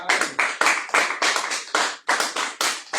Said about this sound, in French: Est-ce que tu peux encore acclamer?